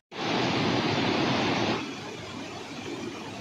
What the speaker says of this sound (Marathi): या ठिकाणी आता आपल्याला नदी लागलेली आहे